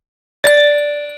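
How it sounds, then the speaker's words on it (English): One bright metallic clock chime from the Contact Kinetic Tweets sample bank, struck once after a short silence and left ringing with a clear, sustained bell-like tone. "I'm gonna add something like a clock from Contact in the Kinetic Tweets bank."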